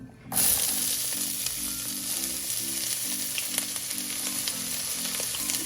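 Finely chopped onions hit hot oil for an Old Delhi green chilli keema, bursting into a loud, continuous close-up sizzle and crackle that starts abruptly and holds steady throughout, with no talking.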